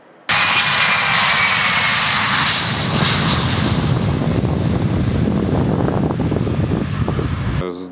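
Loud, steady roar of the engines of an Antonov cargo aeroplane starts abruptly and holds, a heavy droning rush with wind-like hiss, close and sustained until cut off.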